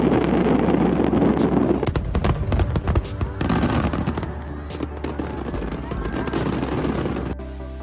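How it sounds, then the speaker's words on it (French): A fireworks display in Dalian, China, with a dense, continuous barrage of crackling bursts and booming pops, loud and sustained throughout before easing slightly at the end. "Un spectacle de feux d'artifice à Dalian, Chine, le 23 septembre 2024."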